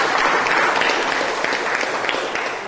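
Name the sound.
audience applause welcoming a guest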